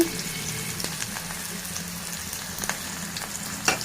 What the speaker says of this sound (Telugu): ఇప్పుడు మనం పోపు పెట్టుకున్నాము